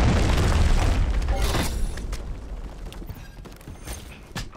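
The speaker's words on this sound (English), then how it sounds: "Hostile cruise missile incoming." Cruise missile explosion in Modern Warfare 3 multiplayer: a loud, deep boom at the start that rolls out into a long, fading rumble with crackling debris.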